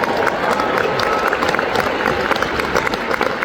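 An audience claps steadily throughout, a dense, fairly loud patter of many hands with some crowd murmur mixed in.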